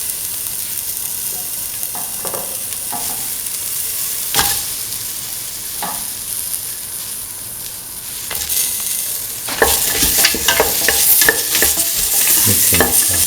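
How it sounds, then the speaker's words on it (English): Carrot being stirred into a lentil and rice mixture in a pan, a steady scraping and sizzling that continues throughout and grows louder and busier toward the end, with no talking. "Mixing it to the rest of the mixture."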